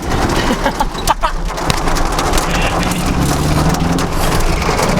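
Heavy rain pours onto a moving car on a bad road in Kyiv, making a loud, dense, constant hiss and drumming inside the cabin, with a voice briefly speaking over it.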